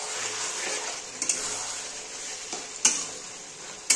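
Mutton kosha, Bengali-style spiced mutton with potatoes, sizzles softly in a pan while being stirred, with a few sharp clinks of a utensil against the pan, close and quiet with no talking.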